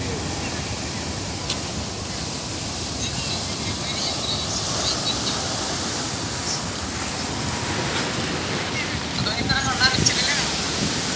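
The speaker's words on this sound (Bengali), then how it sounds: "এই দেখেন কি বড় বড় ঢেউ সারাদিন এরকম ঢেউ হইতে থাকে" Big ocean waves break on a Maldives shore in a continuous, loud surf roar with wind rushing across the microphone, steady throughout with no pauses.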